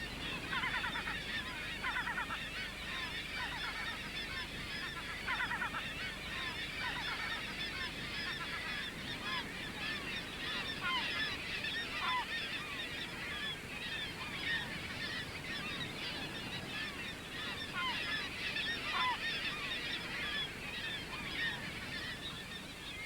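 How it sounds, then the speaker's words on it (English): A busy seabird colony on a rocky Kamchatka ledge, with dense overlapping calls and a young kittiwake's persistent begging cries for food, steady and moderately loud throughout. "A young kittiwake begs its parent for food."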